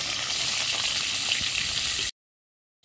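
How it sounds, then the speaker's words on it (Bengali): Potatoes frying in hot oil make a dense, even hiss of bubbling that runs for about two seconds, then cuts off abruptly into silence. "আলুগুলো ভেজে নেব"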